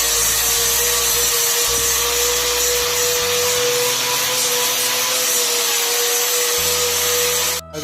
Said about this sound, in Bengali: রান্নাঘরটা এই দেখুন পালিশ হচ্ছে